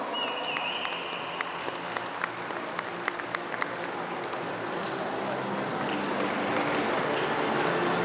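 Applause from a crowd at a youth football tournament closing ceremony, honouring the top scorer; steady clapping with a few sharper individual claps, swelling slightly toward the end, with a faint tone at the start.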